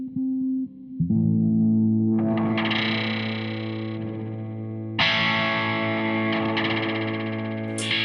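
An Ibanez RGKP6 electric guitar plays chords through a delay effect with heavy distortion, repeating echoes trailing each strum, loud and alone without voices.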